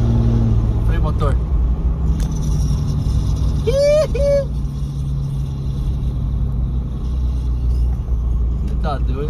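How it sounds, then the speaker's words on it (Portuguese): A pickup truck's engine brake holds a deep, steady rumble with a slight slowdown in the middle, while a voice briefly sounds over it. "Freio motor."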